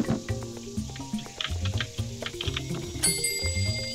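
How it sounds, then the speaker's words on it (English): Bell in the video game KeyWe chiming brightly once near the end over a busy, plinking game soundtrack, with no voices. "The bell, the bell, the bell."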